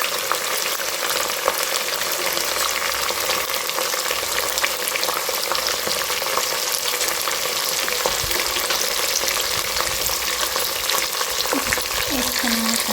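Cashews and raisins fry in a mix of oil and ghee, giving a dense continuous sizzle and crackle close up that holds steady for the whole stretch, with no talk over it.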